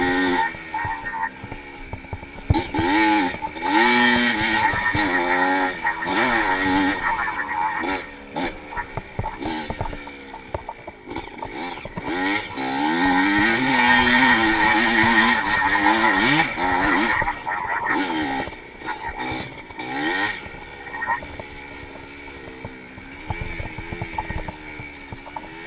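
Two-stroke engine of a 1985 Yamaha IT 200 racing in a vintage cross-country event, loud and close, revving up and down through gear changes with brief dips, continuous for the whole stretch.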